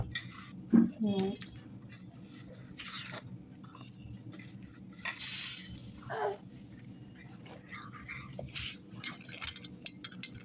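Tamarind pulp being mashed by hand in a bowl with green chilli, cumin powder, sugar and salt, giving soft squelchy mixing with scattered clinks of utensils against the dish, close and fairly quiet.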